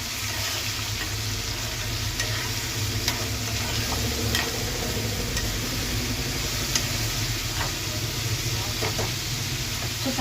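A spoon stirs broad bean curry in a pan, giving a dense steady sizzle with scattered scrapes and light taps, close and fairly loud, no one speaking.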